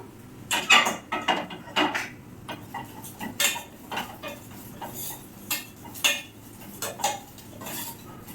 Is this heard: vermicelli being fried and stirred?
yes